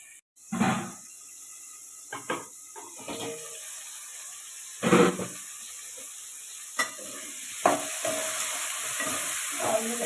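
Tomatoes cook in a pan for a fish curry, a steady low sizzle broken by a handful of brief scraping stirs spread over several seconds, with no talking.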